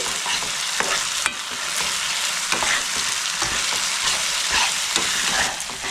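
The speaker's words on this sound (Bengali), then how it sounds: "কাঁচা লঙ্কা বাটাটা দিয়ে দিলাম, এটাও 2 চামচ, দিয়ে ভালো করে মিক্স করে নিচ্ছি" A spoon stirs green chili paste into a shapla pata (shankar) fish curry in a hot pan, giving steady sizzling with repeated soft scraping taps. No one speaks.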